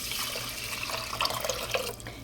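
Water pours into a rice cooker pot for steel cut oats, a steady close splashing trickle with a few bright drips and plinks before it tapers off, no talking.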